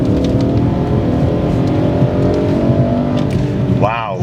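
Engine of a Japanese-import car, apparently a Mazda Speed 3, revving hard from inside the car on a road trip, with a steady, loud drone and a rising pitch sweep near the end.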